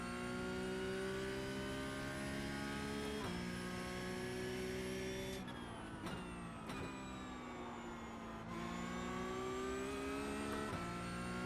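A Porsche Cup race car in the iRacing game at Imola screams through its gears, a loud continuous engine whine with sharp pitch drops at upshifts and lifts, no talking.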